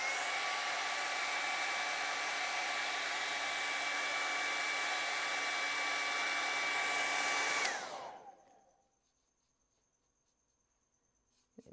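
A hair dryer blasts steadily at close range over wet Derwent Inktense paint, a loud constant whoosh with a thin whine that cuts off about two-thirds through and winds down into near silence.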